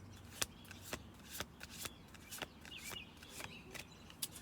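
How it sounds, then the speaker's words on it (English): A deck of cards is shuffled over and over, with short riffling bursts repeating roughly every half second, close and fairly quiet, each ending in a crisp snap. "I'm going to do 2 more shuffle throughs."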